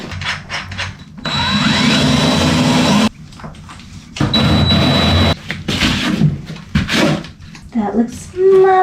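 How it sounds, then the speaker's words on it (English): A battery power drill boring a pilot hole in a fiberglass boat hull whirs in two sustained bursts, loud and close, with short pauses between and a final high whine as it finishes. "We are gonna do a pilot hole."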